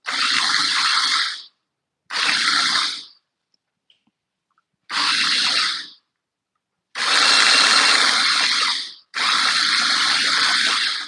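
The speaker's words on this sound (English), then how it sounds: "So now we into the food processor. We're making a paste here. So blend until it's nice and smooth." Red and green chillies being blended into a paste in a food processor: five loud, close motor bursts of about one to two seconds each, separated by short silent pauses, no talking.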